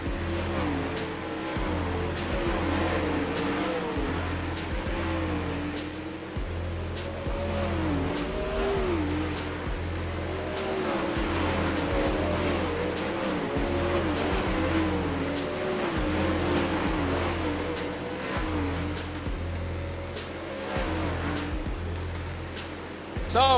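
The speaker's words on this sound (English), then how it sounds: "So, cars on the racetrack here for the warm-up session." Race cars circling a racetrack in Lanier during a warm-up session before a night's A-Main, engines droning steadily and loud with rising and falling revs and occasional tire noise throughout.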